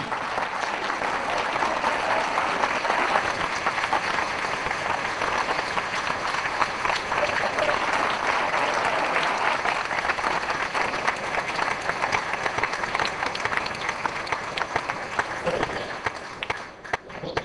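A standing audience at a lecture gives a long, dense ovation, steady and fairly loud with no break.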